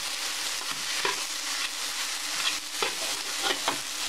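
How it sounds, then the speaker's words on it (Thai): Fried rice with canned fish is stirred and pressed in a hot pan, giving a steady hiss of frying under repeated soft scraping strokes of a spatula at close range. "ขยี้ข้าวนะคะให้เข้ากับปลากระป๋องนะคะที่เราใส่ไปนะคะ"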